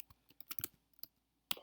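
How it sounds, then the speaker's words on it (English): Computer keyboard typing in short bursts of a few sharp clicks with brief pauses, close and fairly quiet, no talking. "So you just start typing."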